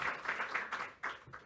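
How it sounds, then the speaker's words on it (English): An audience at a conference session on electrified vehicles claps briefly after a talk, a soft, slightly distant patter of applause in short waves. "Big applause."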